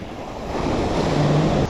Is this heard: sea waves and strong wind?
yes